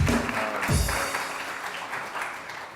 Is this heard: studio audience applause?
yes